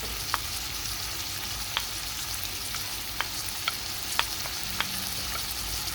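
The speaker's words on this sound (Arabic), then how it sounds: "انا نديرو تاع البصل نخليه يتقلى" Chicken breast pieces and chopped onion fry in oil in a pan with a steady, fairly loud sizzle, broken now and then by a few sharp ticks and pops or scrapes of stirring. No one speaks.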